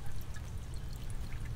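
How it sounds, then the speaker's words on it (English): Small balcony water fountain with a ceramic fish and a fern growing in it, giving a steady, close pouring trickle of water that runs without a break. "My cute little fountain, I just enjoy so much."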